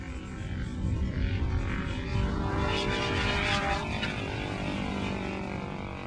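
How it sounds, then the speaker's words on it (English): Small gasoline-engine Aerosonde robotic weather plane in flight, giving a steady, loud propeller drone with a constant engine hum that holds throughout without pause. "It's a simple enough machine powered by a gasoline engine, but this engine can keep a plane flying for up to 4 days."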